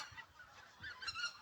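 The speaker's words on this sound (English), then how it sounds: "Why so many birds? Many birds!" A flock of geese flies overhead, some in a V formation, giving faint, distant overlapping honks through a short stretch.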